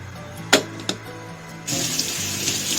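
Cold tap water, 1500 ml, runs into a pot of Chinese herbs such as atractylodes, codonopsis, red dates and licorice, a steady close gushing stream that starts abruptly after a couple of sharp knocks.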